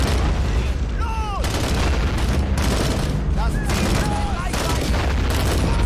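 Heavy, continuous gunfire and booming blasts fill a video game battle simulation of a Red Army convoy ambush, with dense layered shots throughout and brief whistling tones overhead.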